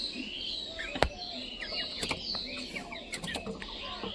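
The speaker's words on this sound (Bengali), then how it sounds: "দেখো তো খোপের ভিতরে মুরগিগুলো আছে" Chickens in a newly built wooden coop made from a broken pigeon box, soft scattered clucks and short calls with a sharp knock or two of movement, faint and fairly close, no talk.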